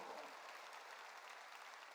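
Congregation clapping during a Korean church sermon, a steady dense patter of many hands filling the space, moderately distant and unbroken throughout with no voices over it.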